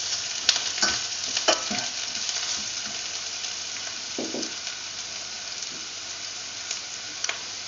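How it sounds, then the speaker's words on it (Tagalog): Ginger frying in a pan for a mussel and coconut milk dish, stirred with a few sharp utensil clacks over a steady sizzle, close by and with no talking. "Now we can add the ginger, mix thoroughly."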